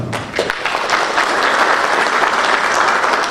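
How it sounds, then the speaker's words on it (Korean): At a lecture on education in the AI era, an audience breaks into warm welcoming applause for the lecturer, swelling quickly into a full, steady wash of clapping. "뜨거운 환영의 박수를 부탁드리겠습니다."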